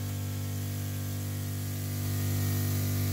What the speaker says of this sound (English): You can see the spray pattern in there. It is misting a lot.